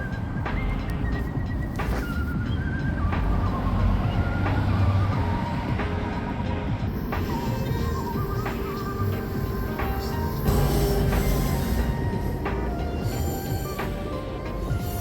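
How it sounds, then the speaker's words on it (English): A West Coast Express commuter train rumbles past on nearby tracks, with a steady low rolling roar, intermittent metallic squeals and clanks rising over the noise throughout. "the last West Coast Express train will be passing through these tracks right here"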